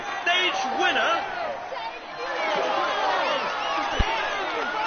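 Crowd cheering and applause for a stage winner on the podium in a Tour de France cycling video game, a loud, steady wash of many voices through the clip, with a brief thump near the end.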